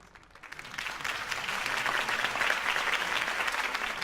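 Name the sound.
applause from a crowd in the video game Batman: The Telltale Series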